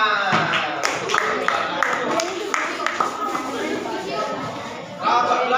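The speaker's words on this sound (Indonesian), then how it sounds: "tepuk tangan." Schoolchildren in a classroom clap together, a lively burst of many hands with sharp individual claps over chatter, holding steady for several seconds before briefly swelling at the end.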